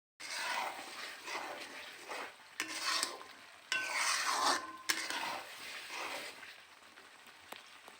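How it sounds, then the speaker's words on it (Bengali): Spice paste being stir-fried with fried onions in a pan, heard as close scraping and rubbing strokes in uneven bursts over a faint sizzle, with brief pauses between strokes. "এখন খুব সুন্দর করে মশলাটা আমি কষিয়ে নিব।"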